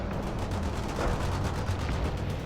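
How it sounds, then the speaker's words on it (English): Grenade launcher fire in the war video game World in Conflict, a dense, continuous barrage of rapid gunfire-like thuds and blasts that stays loud and steady throughout, with no voices. "Firing grenade launcher."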